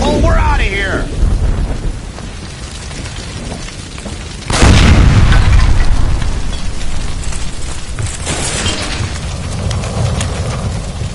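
A gas line explodes in the video game L.A. Noire, a sudden loud blast midway that follows a rumbling, noisy stretch and gives way to a sustained roaring wash; a voice is briefly heard at the start.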